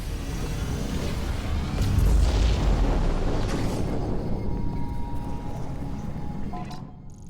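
A power bomb detonates in Metroid Prime 4: Beyond, a loud deep boom that rises, holds as a sustained rumbling blast for several seconds, then cuts off abruptly near the end.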